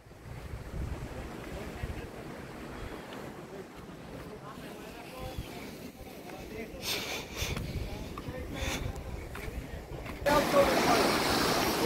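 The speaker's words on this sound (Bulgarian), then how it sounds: "Тук има големи вълни, които го засмукаха." Big sea waves surge and crash along a beach at Sozopol on the Black Sea, a steady, loud roar with wind buffeting the microphone, growing heavier toward the end, while voices shout in the background.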